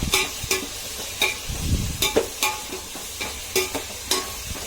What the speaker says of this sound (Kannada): ಸ್ವಲ್ಪ ಫ್ರೈ ಆಗುತ್ತೆ. ಬೆಳ್ಳುಳ್ಳಿ ಶುಂಠಿ ಪೇಸ್ಟ್ ಹಾಕೊಳ್ಳೋಣ.